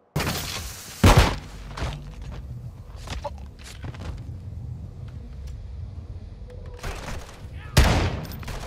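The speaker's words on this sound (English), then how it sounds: "Wait, how long is this flashbang?" A flashbang grenade goes off in a video game, with sharp loud bursts near the start and end amid scattered gunfire-like cracks and footsteps.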